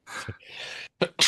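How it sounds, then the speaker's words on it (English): A single close, loud human sneeze indoors: a sharp drawn-in breath, then an explosive burst with a brief trailing exhale. "Bless you. Sneezing."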